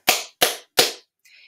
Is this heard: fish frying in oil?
no